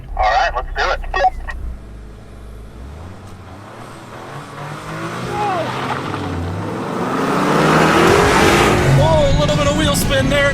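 A Toyota GR Corolla with a small turbocharged three-cylinder engine and all-wheel drive in track mode launches at full throttle. The engine roar builds loud and close as it accelerates, with a person talking over it.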